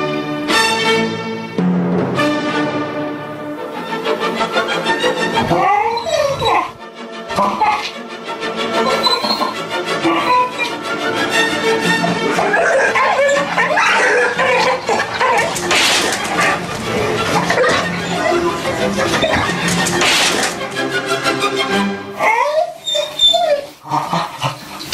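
A dog barks, whines and squeals excitedly at a television, with sustained agitated yelps and cries over about twenty-five seconds, mixed with TV sound and occasional human voices.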